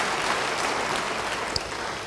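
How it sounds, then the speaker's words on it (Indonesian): Church congregation applauds during a sermon, a dense, even wash of clapping at moderate distance that holds steady throughout with no voices on top. "Beri tepuk tangan bagi dia."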